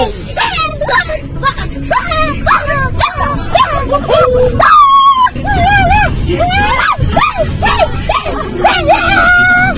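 A dog barks and yips excitedly in rapid bursts, close by, with high whining yelps and people talking in the background.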